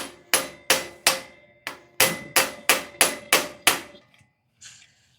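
A hammer strikes a manual impact driver to free a stuck bolt on a 1970s Ariens snowblower: about ten hard, ringing metallic blows in a quick, slightly uneven rhythm, close and loud, then silence with a faint rustle.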